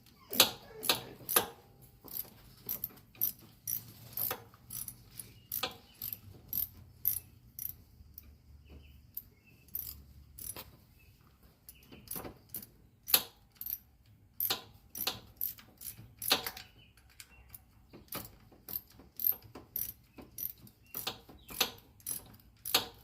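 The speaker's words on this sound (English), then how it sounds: "Put the retaining bolt back in. 10mm socket to tighten it up." Ratchet wrench with a 10mm socket clicking as it tightens a retaining bolt on a 2000-2003 Honda TRX 350 ATV, with short bursts of rapid ratcheting clicks repeating in quick strokes throughout, fairly close and alone.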